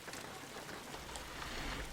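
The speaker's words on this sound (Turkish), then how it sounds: "Şu yağmur hiç hoşuma gitmedi. Çok gürültü yapıyor" Rain falling in the video game Jalopy, a dense, steady hiss of drops that stays loud and even throughout, with no talking.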